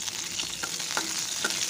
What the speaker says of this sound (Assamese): ঘিখিনি গৰম হৈ আহিলত তাতে কিচমিচকেইটা ভাজি ল'ম